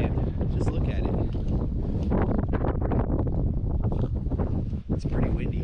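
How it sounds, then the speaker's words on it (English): Strong wind rips across the shore of Pyramid Lake, Nevada in late winter, a loud continuous rumbling buffet with heavy gusts battering the microphone throughout. "The wind wasn't supposed to be ripping at all today."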